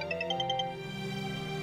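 A phone rings with a short repeating electronic tone over a sustained musical bed, moderately quiet, in a home drama scene.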